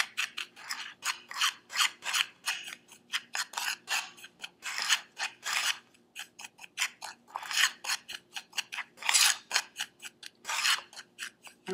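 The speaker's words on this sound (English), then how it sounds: "So what we're going to do is just mix this up into a little spice blend." Dry spices being mixed into a spice blend in a bowl: a rapid series of scraping, rasping strokes, close and fairly quiet, in an uneven rhythm with brief pauses.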